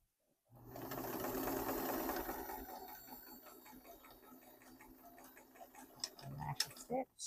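An electric sewing machine runs steadily while stitching a pillow with right sides together, a continuous mechanical whir and ticking that starts after a brief silence, eases toward the end and gives way to a few short clicks.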